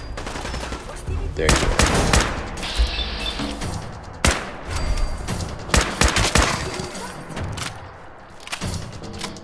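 Video game gunfight against enemies and a hound: rapid bursts of shots and thuds spread across the stretch, loud and near, with a brief spoken line.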